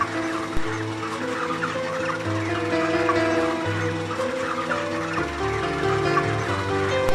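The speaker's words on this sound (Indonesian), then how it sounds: "Untuk penimbangan kali ini berjumlah 6 ekor ayam betina." Female broiler chickens clucking and gobbling as a group of six are weighed on a farm, a steady overlapping chorus of low calls heard close by with no talk.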